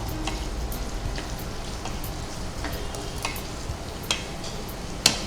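Onion frying over a high flame in a pan, a quiet continuous sizzle broken by light ticking clicks from stirring, with one sharper knock near the end.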